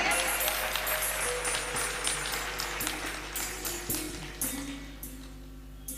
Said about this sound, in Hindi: बड़ी कमजोर तालियां हैं आपकी